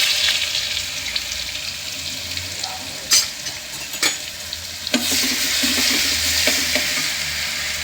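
Ginger garlic paste and garam masala powder sizzle loudly in hot oil, a steady close frying hiss broken by a few sharp stirring knocks and scrapes of a spoon against the pan.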